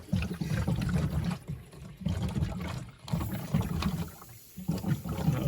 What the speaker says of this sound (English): allow any water in the system just to drain out using those two valves